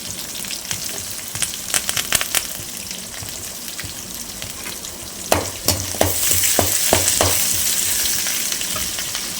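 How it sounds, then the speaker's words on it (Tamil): Onions sautéing in a pan until reddish-brown, cooked alongside fish curry, a loud close sizzle with bursts of quick spoon scrapes early and again midway, the frying swelling stronger toward the end, no voices. "வெங்காயத்தை சேர்த்துட்டு அதை நல்லா செவக்கிற அளவுக்கு வதக்கணும்"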